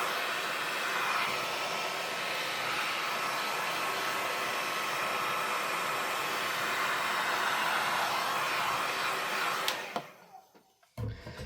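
A hair dryer blows steadily at close range to dry small card-making pieces, a continuous loud airy whoosh that runs for several seconds before cutting off abruptly, followed by a few faint handling knocks.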